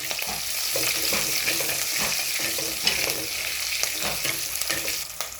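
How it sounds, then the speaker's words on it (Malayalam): Green chillies and shallots sautéing in a pan with curry leaves for a coconut sardine curry: a continuous loud sizzle with scraping stirs and occasional utensil clinks. "പിന്നെ കൊച്ചുള്ളി ഇവരിട്ട് നമുക്കൊന്ന് വഴറ്റാം"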